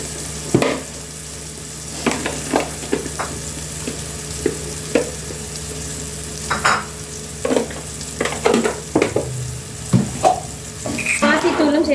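Eggplant curry with pepper, salt and spices sautéing in a pan, a low continuous sizzle broken by repeated spoon stirs and clanks against the pan, with brief speech near the end.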